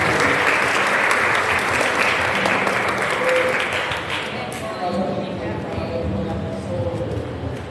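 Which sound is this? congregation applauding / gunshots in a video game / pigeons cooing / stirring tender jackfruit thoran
congregation applauding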